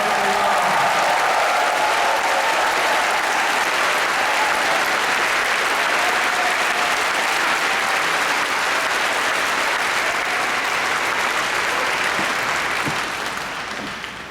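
A church congregation at a Korean world mission conference claps in sustained, dense applause that holds steady for over ten seconds before tapering off at the end.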